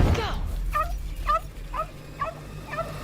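A small dog named Squirt in a Fallout trailer whimpering and yipping, five short high-pitched cries in an even rhythm after an initial rumble, close and clear.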